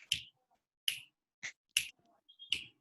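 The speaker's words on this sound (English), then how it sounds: "Can you all snap your fingers and see how loud you can possibly get?" A handful of separate finger snaps, sharp and crisp, spaced irregularly about half a second apart against near silence, fairly faint.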